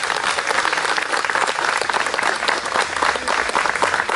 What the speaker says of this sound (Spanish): Un fuerte aplauso por Jesús.